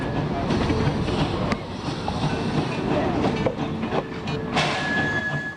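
A passing train rolls steadily by the baseball grounds at Greenfield Village, with continuous rumbling wheel clatter, clickety-clack and occasional brief squeals, while a crowd murmurs in the background.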